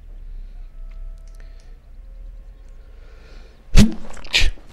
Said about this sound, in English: I just sneezed there.